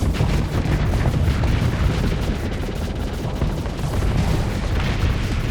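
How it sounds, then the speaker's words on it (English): Heavy Giga Cannon fire in the space game Starsector, striking an enemy frigate: a dense, continuous roar of booming blasts and rumbling impacts, loud and close, with no voices over it. "Always feels good to hit a frigate with a Giga Cannon"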